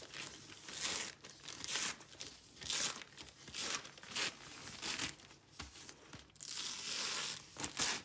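Handmade rice paper with embedded threads, dried overnight, is peeled off its surface in a run of close, crackling, crinkly tearing bursts, separated by brief pauses and ending in a longer rasping pull, with no talk.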